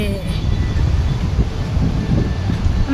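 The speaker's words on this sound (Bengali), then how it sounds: "যার জন্য অত দূর থেকে এখানে আসা, এই সমুদ্রের হাওয়া" Sea wind at the beach in Mandarmani, a steady, close rumbling roar buffeting the microphone with no break for the full three seconds.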